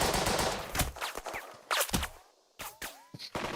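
Enemy machine gun fire in Burden of Command rattles in several sharp bursts separated by brief pauses, with ricochet-like whines between them.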